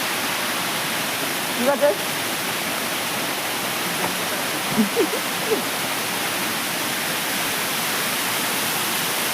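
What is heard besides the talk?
waterfall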